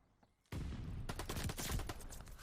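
Gunfire in a first-person shooter video game during a collegiate esports match between Oklahoma Christian and Oregon. Dense, loud bursts of rapid shots and explosions erupt after a brief quiet start and continue without pause.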